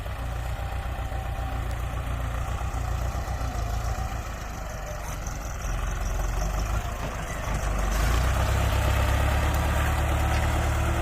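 A Ford four-wheel-drive tractor's diesel engine idles steadily with a low, rumbling throb that grows slightly heavier and louder near the end; no voices.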